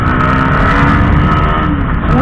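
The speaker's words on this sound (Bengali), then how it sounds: "full RPM sound guys" A 125cc motorcycle engine revs hard at full RPM, producing a loud, steady, continuous roar close by that holds without a break.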